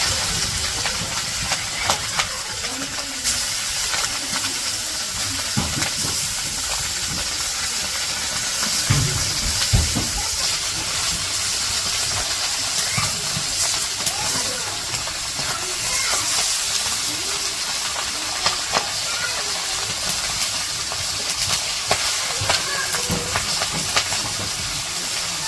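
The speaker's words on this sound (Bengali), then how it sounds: "মাছ ভাজা হয়ে গেছে, নামাই নিতেছে এখন" Fish fries in mustard oil in a wok, a constant loud, bright sizzling hiss lasting throughout with small crackles and occasional soft knocks.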